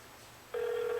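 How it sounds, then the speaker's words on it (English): A phone on speakerphone sealed inside a closed microwave lets out a steady electronic tone that starts abruptly halfway through and holds, muffled and moderate over low background hiss. "Put it on speakerphone so you can hear my phone."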